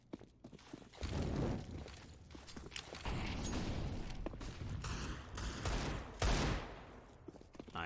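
Rapid bursts of gunfire from a Counter-Strike match on the map Mirage, including Desert Eagle pistol shots, crackling loudly and continuously across the clip with dense overlapping reports and clattering mechanisms.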